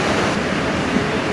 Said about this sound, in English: When the waves get really big everywhere else in El Salvador, this place holds a really good swell and it barrels.